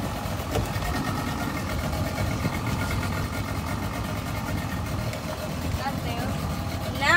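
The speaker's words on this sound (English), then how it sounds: "We got the engine running." Steady engine idle of a 60 ft yacht, a continuous low rumbling drone at moderate level with faint water and wind noise, and voices talking aboard.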